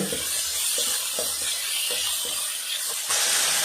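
Spice paste for Kolhapuri misal fries in hot oil, a loud, steady sizzling hiss running throughout, broken by faint soft knocks of stirring.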